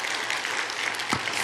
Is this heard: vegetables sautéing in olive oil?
no